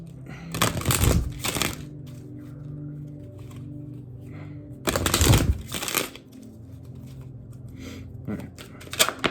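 Oracle cards are shuffled by hand, two bursts of riffling and flapping card noise separated by quieter rustling, close and clear, with a shorter shuffle near the end.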